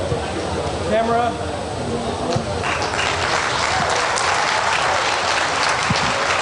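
An audience at a tech event in Bahrain applauds the prize winners, with dense, loud clapping that builds and fills the room after a voice over the speakers.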